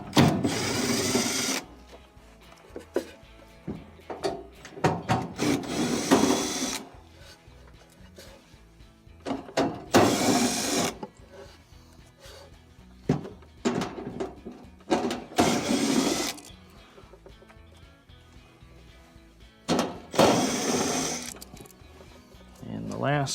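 A power driver removes quarter-inch screws from a refrigerator evaporator cover in four loud bursts of whirring, separated by quieter stretches with a voice talking.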